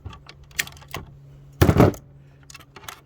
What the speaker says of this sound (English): Snip the main wires.